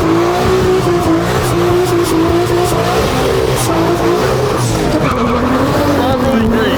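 A car does a street-race-style burnout, with loud continuous tire squeal over a steady revving engine, close and unbroken, while people shout faintly in the background.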